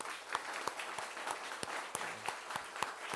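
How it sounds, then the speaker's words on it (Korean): A church congregation applauding, with sharp individual claps standing out over a dense wash of clapping that continues evenly throughout. "우리 마지막 힘있게 격려 박수 한번 드리겠습니다."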